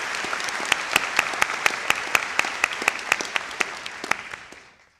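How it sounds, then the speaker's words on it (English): Applause for graduates at a spring college commencement ceremony, a large crowd clapping steadily with crisp individual claps standing out, loud and sustained before fading out at the end. "Can we have a round of applause for our graduates,"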